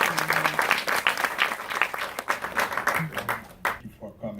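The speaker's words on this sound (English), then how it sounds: "give a round of applause to TD and to Joey here." Audience applause closing a panel discussion at a film center, a scattered, moderately loud round of clapping that thins out toward the end as a speaker's voice comes in.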